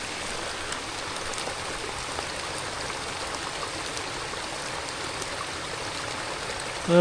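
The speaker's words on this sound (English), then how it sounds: "it's chucking it down with rain" Heavy rain pours down outdoors, making a steady, soft, even hiss with faint trickling and no other sound until a small bump at the very end.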